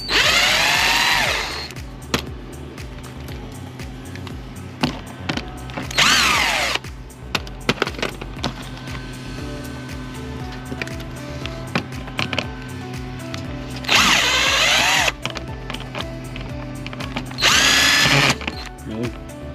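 A power drill backs screws out of car fender flares, with several loud high-pitched whirring bursts separated by clicks, ratcheting and handling noise, close up and without talking.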